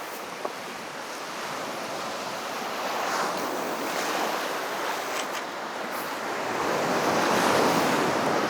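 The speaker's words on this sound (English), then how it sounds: "there is a bit of a swell pushing in every now and again" Sea swell and waves rolling steadily onto a Northumberland shore while cod fishing, a continuous broad wash of surf that surges louder toward the end, with wind buffeting the microphone and no talking.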